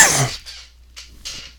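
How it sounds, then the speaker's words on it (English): A single harsh cough up close, followed by a couple of softer breathy coughs or throat sounds trailing off. "Excuse me, I got a cough."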